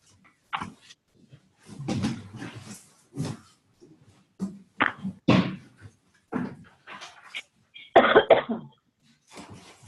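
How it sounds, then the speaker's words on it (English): Repeated coughs from a person in a classroom, a series of separate bursts spread over about ten seconds with a few quiet gaps, moderately close and loud, with no speech over them. "Bless you, whoever's coughing."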